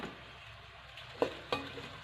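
Sliced medium onions dropped into hot cooking oil in a pan for chicken karahi, a soft steady sizzle with two brief louder stirring scrapes, close and quiet, no talk.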